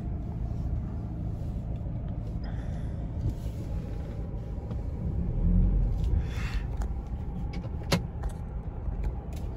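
Low rumbling car engine idling and moving slowly while parking, with a brief mechanical whir and a sharp click partway through; no one speaks.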